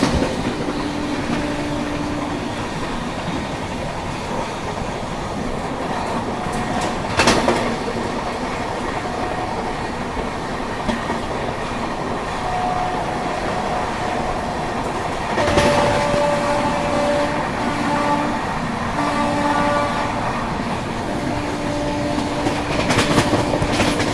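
An AC Express train runs past Chilika Lake station with a steady, loud rumble and clickety-clack of the wheels, heard from inside a coach, with a few sharper rattles and faint tonal squeals but no talking.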